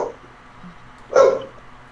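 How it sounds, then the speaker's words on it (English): A single dog bark sounds loud and close, one sharp burst after a brief quiet stretch, followed by a trailing low whine. "What is she barking at?"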